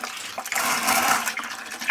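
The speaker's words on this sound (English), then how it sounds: "So I'm adding cold water, and I'm going to bring the beer wort up to the 4-gallon mark." Cold tap water pouring into a homebrewing bucket of beer wort, a steady broadband splashing rush that swells midway and continues without a break, close and loud with no talking.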